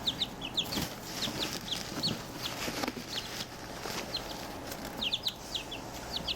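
Chicks in a brooder cheep in quick, high, repeated bursts, close by, over a soft, rustling background.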